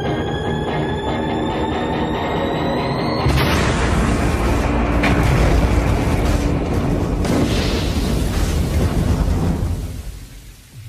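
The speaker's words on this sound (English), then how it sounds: "We increased the pressure and we got up towards 49 bar and the tank will split." Satellite propellant tank filled with water splitting open under about 49 bar in a pressure test, with a loud sustained roaring burst and rushing water that starts suddenly and carries on for several seconds before fading, with no talking.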